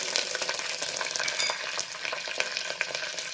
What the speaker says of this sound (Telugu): ఆవాలు చిట్పట్లు ఆడుతున్నాయి.